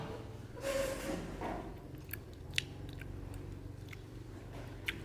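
Someone eats hot cup noodles with chili, giving soft close chewing and slurping with a few sharp crunchy clicks, quiet and with no speech.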